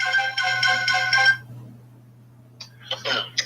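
A telephone ringtone for an incoming call on a call-in show, a bright repeating electronic melody that plays for over a second and then stops, followed by brief faint voice sounds.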